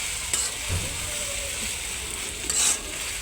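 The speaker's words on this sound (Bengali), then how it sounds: "ভালো করে মিশিয়ে নিচ্ছি।" A spatula stirs chicken vegetable noodles in tomato sauce around a pan, with soft scraping and clinking over a low sizzle and a couple of sharper knocks.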